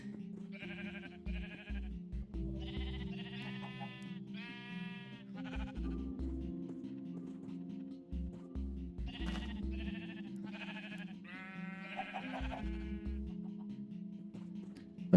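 Repeated sheep bleats in Minecraft sound loud and close, several overlapping calls coming in bursts over a steady low hum, with no talking.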